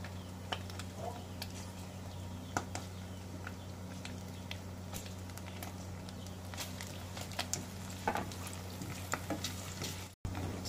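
Garlic and onion for pinakbet sizzle steadily in a pan, with occasional clinks and scrapes of stirring, heard close and fairly quiet.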